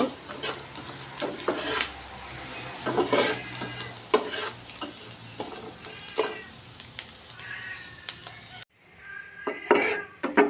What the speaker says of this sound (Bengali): ভাজা ভাজা হয়ে গেছে, এখন বাড়িতে তুলে নেব।